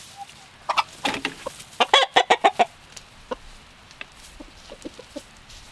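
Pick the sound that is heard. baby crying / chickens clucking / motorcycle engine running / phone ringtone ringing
chickens clucking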